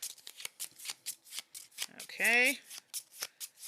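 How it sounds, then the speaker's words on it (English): A deck of cards is shuffled at a tabletop board game, a rapid series of crisp riffling bursts in steady rhythm, close and clear, with a brief spoken word partway through. "So we shuffle, shuffle, shuffle."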